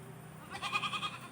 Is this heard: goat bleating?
yes